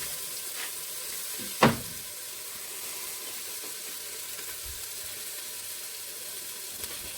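Onions and garlic fry in oil for a goat meat stew, a steady close sizzle that hisses throughout, broken once by a sharp clack of a utensil against the pan.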